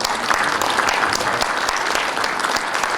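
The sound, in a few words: audience applause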